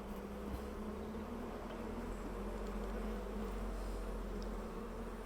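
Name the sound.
honey bees buzzing while lifting a hive frame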